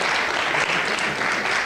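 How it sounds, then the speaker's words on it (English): An audience of parents and students applauding at a school presentation, dense, loud, continuous clapping from a crowd filling the whole short span. "Let's give them a round of applause, and the students."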